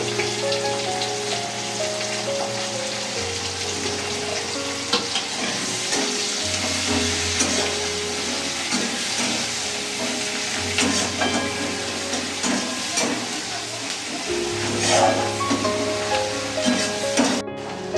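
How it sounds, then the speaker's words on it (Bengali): Chopped onions fry in hot oil over a spiced tempering, giving a dense, continuous crackling sizzle that stays even for the whole stretch, with background music playing underneath. "এবার পেঁয়াজ কুচিগুলো দিয়ে ভেজে নিচ্ছি লাল লাল করে।"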